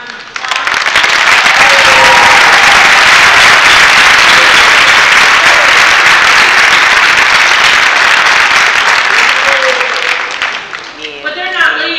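Loud, sustained audience applause for a panel at a state summit on disabilities, a dense roar of clapping swelling quickly and holding for about ten seconds before fading, with brief voices at the end.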